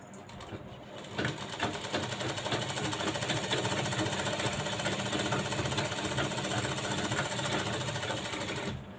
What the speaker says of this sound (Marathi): इकडच्या साईडने एक शिलाई करून घ्यायची आहे व्यवस्थित अशी शिलाई करायची